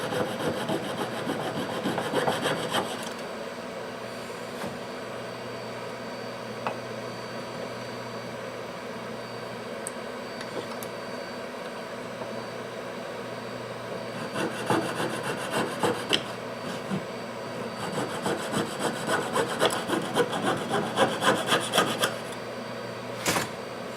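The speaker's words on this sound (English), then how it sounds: "Sawing is the best way to get a truly flat edge on your bezel." A jeweler's saw cuts a metal bezel for filigree jewelry with steady, rapid rasping strokes, louder bursts near the start and end over a constant low hum.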